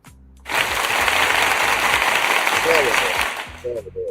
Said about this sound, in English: Let me give you some applause here upon this Monday morning here.